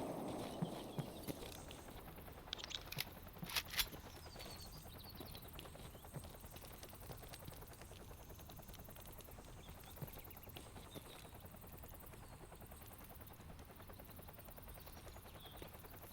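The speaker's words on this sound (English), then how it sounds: "Oh shit, that's a helicopter." Helicopter in the video game Stalker Anomaly, a faint, steady rotor drone running throughout, with a few sharper knocks near the start.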